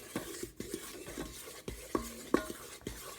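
Gumbo roux being stirred in a rice cooker. A utensil scrapes and taps against the pot in irregular strokes over a faint sizzle, close and fairly quiet, with no voices.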